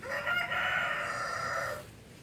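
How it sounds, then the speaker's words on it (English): A rooster crows loudly in one long, drawn-out call, with a second bird overlapping, then it trails off into quiet. "And there go those roosters again."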